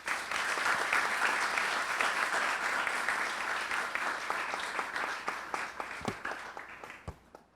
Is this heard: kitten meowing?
no